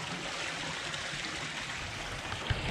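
Steady, soft rush of stream water flowing in Entebbe, Uganda, a continuous faint trickling wash with no voices and one small splash near the end.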